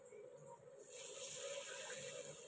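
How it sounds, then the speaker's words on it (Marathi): Rinse water from a mixer jar poured into masala frying in a pan: a quiet background hum that swells into a louder, steady hiss about a second in and holds. "मिक्सरचं भांड धुतलेलं पाणी टाकले."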